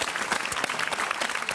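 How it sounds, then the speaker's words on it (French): Studio audience applause on the French TV game show Motus, dense steady clapping from a crowd, close and loud for the whole stretch. "on vous applaudit très fort, Thierry, Hervé."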